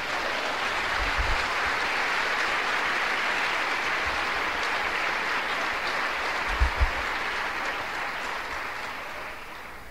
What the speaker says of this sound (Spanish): Si está entendiendo, aplauda al Señor.